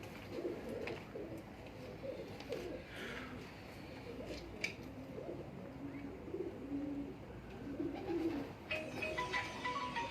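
A loft of champion breeder pigeons coos in repeated soft, throaty phrases close by, several birds overlapping in a continuous murmur with faint rustling and no talk.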